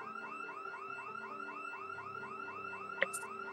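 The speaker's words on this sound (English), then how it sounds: "What alarm's even going off?" A house alarm in the video game Project Zomboid, wailing in a repeating rising-and-falling electronic sweep, heard from a moderate distance with one sharp click near the end.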